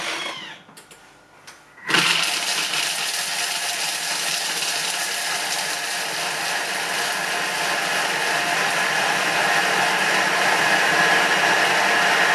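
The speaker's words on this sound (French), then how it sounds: "Et je vais mixer 10 secondes, vitesse 10." A Thermomix mixes chocolate for truffles at speed 10, roaring in suddenly after a few soft clicks and holding a loud, steady whirring grind for about ten seconds.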